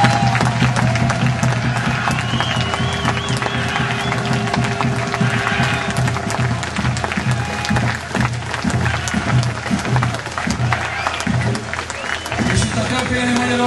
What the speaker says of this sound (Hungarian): Ha tetszett, akkor egy kicsit emlékezzünk rá egy kis tapsal